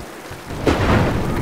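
Video game storm: steady rain hiss swells into a low rumbling thunder roll that builds and holds near and loud, with no voices over it.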